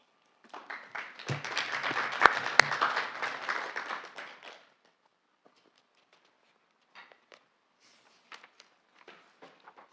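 Applause at a council meeting rings out for about four seconds, a moderate burst of many hands clapping in a room, then fades to a few scattered taps and small movements in near silence.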